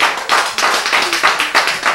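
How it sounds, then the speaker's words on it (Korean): A congregation at a Korean church sermon claps in quick, fairly regular bursts, close and loud, the hand claps landing in a rhythmic pattern for two seconds. "오늘 박수가 제일 좋네"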